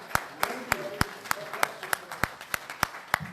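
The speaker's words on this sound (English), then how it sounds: "Please welcome him with the applause." Applause welcoming a speaker at a fundraising dinner, heard as a sparse, regular run of about a dozen distinct claps spaced roughly a third of a second apart, fairly faint and close, with soft background noise between them.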